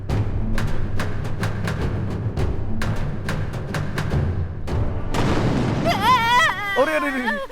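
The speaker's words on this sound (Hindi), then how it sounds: "बम क्यों फोड़ रहा है?" Firecracker-like bomb blasts in a village scene, a rapid series of sharp bangs and pops repeating for several seconds before excited voices and shouting take over.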